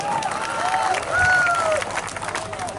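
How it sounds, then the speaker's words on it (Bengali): Crowd clapping at an outdoor political mass gathering in Pecharthal constituency, a short burst of applause with a raised voice calling over it. "হাততালি আরো বাড়ে দিন"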